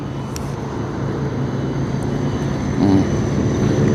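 Steady traffic rumble from vehicles on an expressway overhead, a continuous broadband roar that swells slightly near the end, with no talk.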